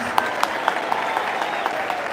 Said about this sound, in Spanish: Pido un aplauso para el Padre Toro por estar aquí acompañándonos.